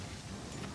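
Rain and thunder in Monster Hunter World, a steady hiss of heavy rainfall with a low rumbling thunder bed throughout, dense and continuous with no speech.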